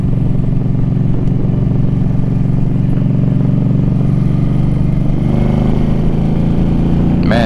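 Suzuki M50 motorcycle riding along, a steady loud engine drone with wind rumble that builds slightly toward the end, with no talking.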